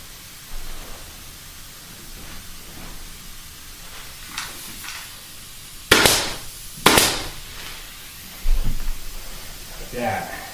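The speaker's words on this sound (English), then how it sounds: "and I'll hit that with my staple gun" Staple gun firing into upholstery fabric on a wing chair: two sharp, loud staple shots about a second apart, then a softer thud and a later click, against quiet room noise.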